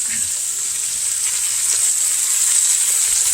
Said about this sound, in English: Those are my onions going.